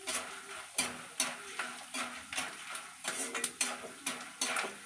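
Food for a Pahari hill dish roasting in a pan, with a soft sizzle broken by repeated clinks and scrapes of a spoon stirring against metal, quiet and close.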